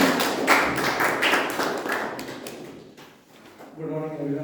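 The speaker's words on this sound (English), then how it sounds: "can you have a short applause for him?" A Toastmasters club meeting audience gives a short round of applause, a brief burst of clapping that fades before a speaker begins talking.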